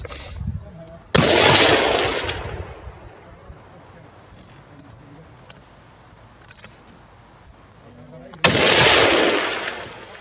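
A Tikka T3 CTR .308 rifle fires at a 15x15 cm steel plate, giving two sharp, loud shots several seconds apart, each with a long rolling echo, over outdoor wind noise.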